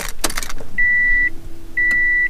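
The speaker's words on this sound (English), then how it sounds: "Next up is to turn the ignition to on." A Subaru's ignition is switched to on and gives two sustained electronic beeps, each about half a second long, over a low, steady rising whine. The sounds are close and clear, with no talking.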